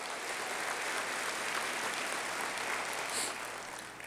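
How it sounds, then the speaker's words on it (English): A large civic audience at a State of the City address applauds steadily for the Water Commission and staff, a dense, even wash of clapping that holds for several seconds and fades slightly at the end. "So let's give our Water Commission and the staff a big round of applause for the hard work they do."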